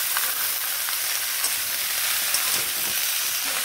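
Malabar spinach and pumpkin fry in a pan while being stirred, a soft, even sizzle running throughout with occasional faint scrapes of the spatula.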